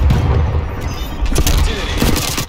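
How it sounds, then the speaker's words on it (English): Artillery explosions rumble in Call of Duty Black Ops Cold War during a Domination match on the Raid map, loud and dense with booming blasts and crackling gunfire, while in-game voice callouts sound over them. "Artillery targeting detected."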